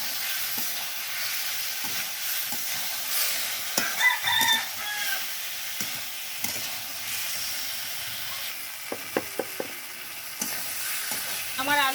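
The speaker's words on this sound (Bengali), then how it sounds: "ভেজে রাখা কচু আর আলু দিয়ে দেবো। ভালো করে একটু কষিয়ে নিই।" Fried taro and potato are stirred through spice paste in a hot pan, making a steady close sizzle broken by repeated scraping strokes and a few sharp clacks of the spoon, with no talking.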